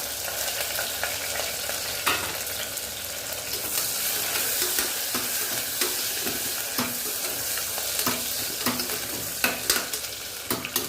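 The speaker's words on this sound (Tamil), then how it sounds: "நல்லா வதக்கி கொடு நல்லா வெங்காயம் நல்லா வதங்கணுங்க" Onions and green chilies sauté in ghee with cloves and cardamom for ghee rice, giving a steady close sizzle and hiss with a few scraping stirs across the pan and no talking.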